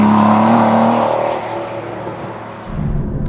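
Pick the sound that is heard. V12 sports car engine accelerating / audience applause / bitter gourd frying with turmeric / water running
V12 sports car engine accelerating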